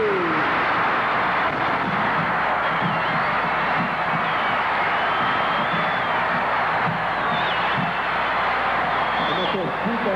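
A huge crowd cheers and roars at the Miss Brasil 1978 pageant, a dense, loud, continuous wall of voices with whoops rising from the din.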